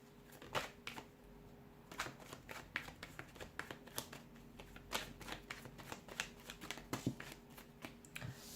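Tarot cards shuffled by hand in a quiet room, a rapid run of crisp riffles and flicks with brief pauses, close and fairly soft, no one speaking.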